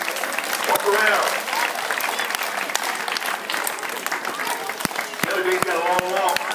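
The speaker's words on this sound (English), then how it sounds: "let's give everybody a big hand" An audience claps enthusiastically at a flag football game event, steady dense applause filling the whole stretch with a few sharper claps standing out, while a voice talks over it.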